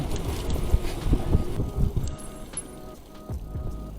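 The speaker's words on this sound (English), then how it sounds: "Oh yeah, nice and windy now." Gusty wind buffets a body-worn camera outdoors on a street during food delivery rounds, a rough low rumble that rises and falls, strongest early then easing, with faint traffic in the background.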